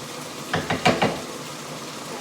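Stuffing ingredients sauteing in a pan on a gas burner set to high, a soft background sizzle broken by four quick scraping stirs of a utensil against the pan.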